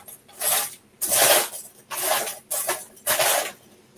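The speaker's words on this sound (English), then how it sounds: "I do apologize about the digging noise as we go through Lego." Hands digging through a box of Lego pieces, bursts of plastic clattering and rattling in about five distinct scrabbling rounds, close and fairly quiet, with no voices.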